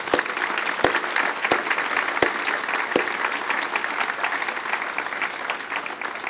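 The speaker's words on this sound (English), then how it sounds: "Please give them a round of applause." Crowd applause for the Harlingen police department during a State of the City address, steady mid-level clapping from a sizable audience, with a few sharper individual claps standing out early on.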